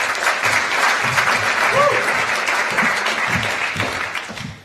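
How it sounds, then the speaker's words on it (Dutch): Warm applause for the poet Marnix at a free-speech festival, a dense crowd clapping steadily throughout with a brief cheer or whistle, tapering off at the end. "een hartelijk applaus voor Marnix"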